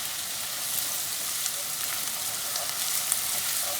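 Minced onions and jalapenos sizzle in hot oil in a pan, a steady bright crackling hiss with faint scattered pops, fairly quiet and continuous.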